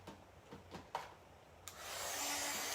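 After a few soft taps and knocks, a hair dryer switches on and blows steadily to dry chalk craft paint. Its whooshing airflow is fairly quiet and continues to the end.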